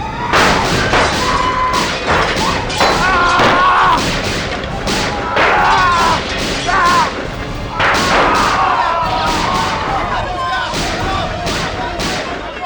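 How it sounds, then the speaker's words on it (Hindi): Rapid bursts of gunfire with sharp cracks and heavy thuds, mixed with shouting voices and chaotic commotion, loud and dense throughout. "बहुत गोलियां चली।"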